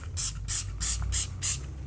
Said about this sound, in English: We spray it on.